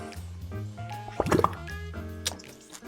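Batter for a classic British cake is spooned into a baking pan, giving a wet plop and soft squelch mid-clip amid quiet kitchen handling, with a voice faintly present.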